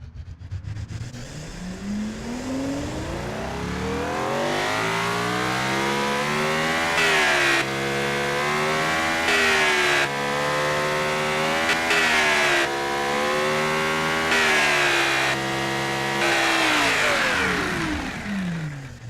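A tuned 4-liter V12 making 658 horsepower fires up and revs repeatedly, its deep, smooth note climbing and falling in several sustained surges, loud and close with no talking.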